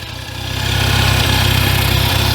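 An old Cub tractor engine runs with the choke partly on, a loud, close, steady chugging idle with a regular rhythmic pulse and slight unevenness, heard alone.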